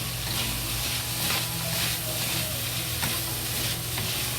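Vegetables fry in a pan over low heat with salt added, a continuous close sizzle under irregular scraping and stirring strokes of a utensil, no talking.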